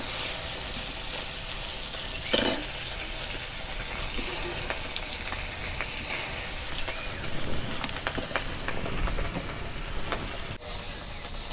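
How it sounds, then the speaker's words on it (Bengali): A silver carp fish head fries crisp in hot oil, a dense continuous sizzle and hiss with a few sharp pops and occasional stirring scrapes. "মাছের মাথাটা মচমচা করে ভেজে নিতেছি।"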